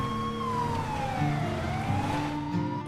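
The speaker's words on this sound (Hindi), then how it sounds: "ये तो पुलिस के सायरन की आवाज थी" A police siren wails steadily in the Free Fire Max video game, a loud continuous tone that sweeps slowly down and back up, heard alone without speech.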